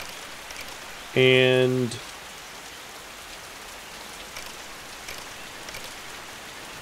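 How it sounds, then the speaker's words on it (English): Steady rain in the survival video game Norland, a soft continuous patter filling the background, briefly overlapped by a short tonal sound and a spoken word. "The rain sound bug? Yeah, the rain finally went away."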